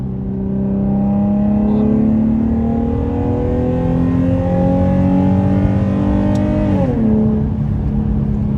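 A Nissan 370Z engine revs up steadily with rising harmonic pitch, loud and close, then drops sharply near the end as the driver lets off.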